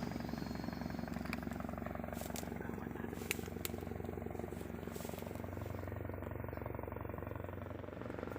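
A Bell 412 helicopter in flight gives a steady, faint droning rotor and engine hum that holds evenly throughout with no other prominent sounds.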